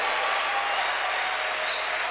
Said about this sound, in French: encouragez-moi un peu avec les acclamations, frère